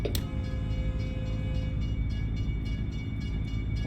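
A train rolls past a truck at a crossing at night in American Truck Simulator. A low rumble of rail cars carries regular rhythmic clicks of wheels over the joints, loud and close, with no talk.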